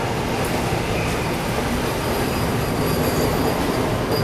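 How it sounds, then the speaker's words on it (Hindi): The Guwahati–NJP Vande Bharat Express, an 8-coach train, enters a station at speed with a loud, continuous rumbling roar of wheels on rail and a faint high squeal, heard up close from the platform. "ये देखो मस्त स्पीड में एंटर हो रही है अभी गुवाहाटी एनजेपी वंदे भारत एक्सप्रेस"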